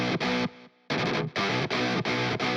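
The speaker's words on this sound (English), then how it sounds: "Let's dial in some like heavier, more aggressive tones" Heavy, aggressive distorted electric guitar through the MMS Clairvoyant amp sim plugin, played as loud, chugging palm-muted chords in a tight rhythmic pattern with one short gap and a brief thinner ringing note.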